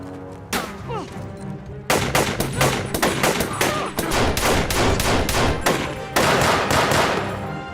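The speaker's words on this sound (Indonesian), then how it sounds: "Dan baku tembak antar mereka pun tidak bisa lagi terelakkan." Gunfight between soldiers and terrorists in a film, with loud rapid bursts of automatic gunfire and single shots cracking in dense rhythmic volleys, briefly pausing before the firing resumes at full intensity.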